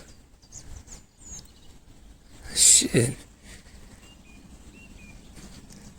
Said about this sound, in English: Did you hear that bird? That's a crazy sound.